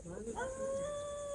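A dog howls at night out in tribal hill country: one long, drawn-out tonal howl that rises and then holds steady, close by and fairly loud, with faint murmuring voices beneath its start.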